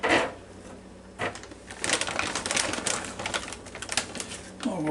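Seasoned waffle cut fries are tipped from a bag into an air oven crisper basket, producing a dry rattling clatter of pieces tumbling against the metal basket, with short rustles before and after.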